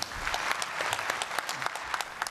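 A brief, modest round of applause follows a climate change speech, a dense patter of clapping at moderate volume.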